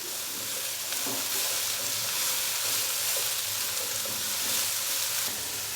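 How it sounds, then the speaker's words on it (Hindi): Cauliflower coated with turmeric frying in a kadai, a loud, continuous close-up sizzle with bright hissing crackle and occasional stirring scrapes, steady from start to finish. "अभी हल्का सा हम इसको फ्राई कर लेंगे 1 से 2 मिनट के लिए।"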